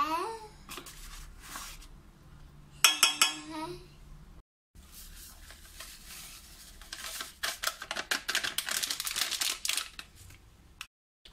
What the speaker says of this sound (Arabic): غادي نخلط كل شيء مزيان